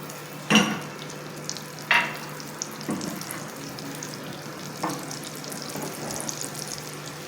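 Garlic dropped into a hot pan for a chicken steak, giving two sharp bursts of sizzling followed by softer crackling and stirring, close and alone with no talk.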